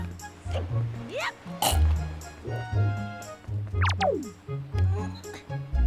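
Pigs in The Legend of Zelda: The Wind Waker grunt and oink repeatedly in a choppy, close, loud series, with a few higher squeals mixed among the low snorts.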